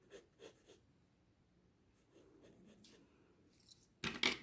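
A pen or pencil scratches across paper in short strokes while an owl is drawn, quiet and close, ending with a louder burst of rustling.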